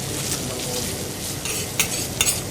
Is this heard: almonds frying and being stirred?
yes